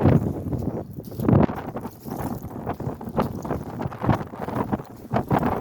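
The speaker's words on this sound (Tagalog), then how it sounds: "Grabe ang lakas ng hangin." Strong gusts of seaside wind buffet the microphone in loud, uneven bursts, roaring and dropping repeatedly throughout.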